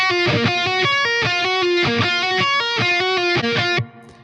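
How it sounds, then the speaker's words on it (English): An electric guitar with a reverb pedal plays a repeated rhythmic chord-and-note pattern drenched in reverb, loud and close, ending with a short ringing tail as it stops. "In this case, there's some of the reverb pedal on here"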